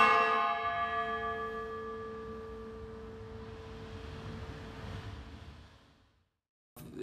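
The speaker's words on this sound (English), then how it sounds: "the Paul Revere bell. Let me ring it once here." A Paul Revere church bell struck once, its single loud, rich tone opening the clip and ringing on with a slowly fading hum for about six seconds before dying away, followed by a brief noise.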